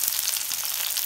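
Onions sizzle and crackle steadily in hot oil, a bright, close frying hiss with no voices.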